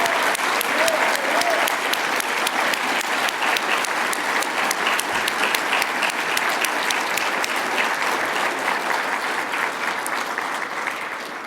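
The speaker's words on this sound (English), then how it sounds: "give a rousing round of applause to the folks who helped bring us this dinner tonight" Sustained audience applause fills a dinner event hall, loud and steady with dense clapping from a large crowd throughout, no talk over it.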